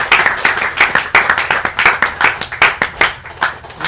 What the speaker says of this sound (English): let's give a big round of applause to all the devotees who patiently listening